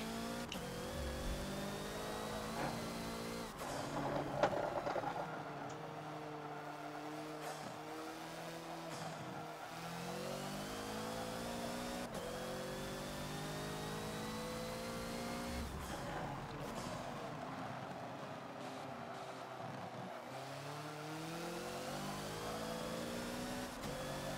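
The Hoonigan Ford Focus race car from a Forza racing game, heard as a sustained, buzzing engine whose pitch climbs through the gears and drops on each shift in repeated cycles. Mixed with faint tire noise and no talking.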